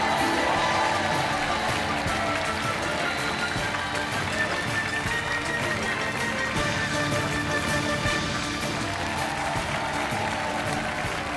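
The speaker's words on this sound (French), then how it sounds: "Les applaudissements du public." A television game show studio audience applauds warmly and steadily, a dense, continuous wash of clapping that lasts throughout at an even level.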